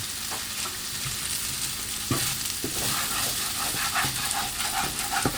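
Ginger and garlic frying on high heat in a pan for a stir-fried green bean casserole, a steady bright sizzle with occasional stirring clatter and a few sharp knocks.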